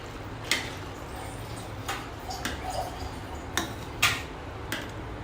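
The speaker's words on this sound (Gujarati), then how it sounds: "સરસ રીતે મિક્સ કરી લઈએ." A spoon stirs chole, a chickpea curry with a little lemon juice, in a pan, giving a few sparse, light clinks and scrapes against the metal over a quiet background.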